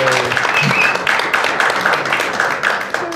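Studio audience applause for contestant Radmila at a Serbian TV singing competition, a dense sustained wash of clapping and crowd noise lasting throughout, loud and continuous with faint voices mixed in.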